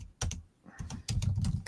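Close, crisp keystrokes on a computer keyboard during programming work, tapped in short irregular bursts with brief pauses between clusters, with no speech.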